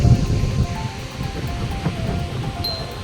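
Ocean waves and gusting wind at a beach in Goa make a steady rushing wash with soft surf swells and wind buffeting the microphone, fairly loud and close, without speech.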